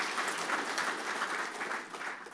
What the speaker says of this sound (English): a little bit of a round of applause for Mike and everything he does